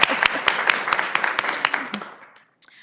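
Applause from the audience at a law school women's leadership event honoring a professor's 30th year, with sharp claps rising over a dense wash of hands, then thinning and trailing off to silence near the end.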